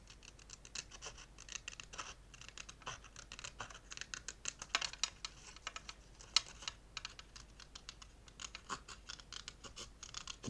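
Scissors cut paper for a scrapbook album, a quiet series of quick snipping and scratching clicks that run steadily at close range with no talk.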